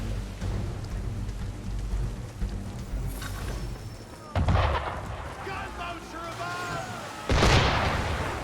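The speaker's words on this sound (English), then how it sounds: "Why is he shooting at us?" Cannon fire from an enemy ship in Assassin's Creed III at sea, two heavy booming blasts a few seconds apart over a steady roar of wind and rain, with a voice speaking in between.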